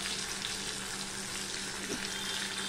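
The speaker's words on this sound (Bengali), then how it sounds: "তার জন্য দেখো মাথাগুলো ভাজা হচ্ছে।" Fish heads frying in hot oil in a home kitchen, giving a steady, continuous sizzle of moderate loudness, with no talking.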